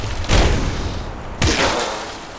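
Two heavy booms from bombs exploding during a castle siege in a video game, each a loud, sharp blast followed by a rumbling decay, about a second apart with no talk over them.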